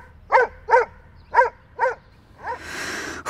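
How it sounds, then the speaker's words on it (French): A big dog barks four times in a steady rhythm behind a gate, loud and close, followed by a burst of broadband rattling as the metal gate shakes under its paws. "le chien aboie encore plus fort que ce matin"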